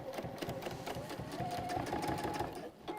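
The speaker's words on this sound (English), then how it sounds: "if I'm going to top stitch along the bottom" A sewing machine top-stitches along the bottom of a fabric bag, running steadily for about three seconds with a fast, even mechanical chatter close up and a faint higher whine partway through.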